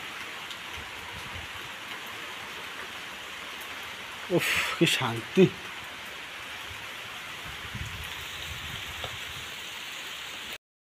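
Steady hiss of heavy rain with big drops falling outdoors, constant and enveloping, briefly interrupted midway by a few short louder bursts of voice and handling noise.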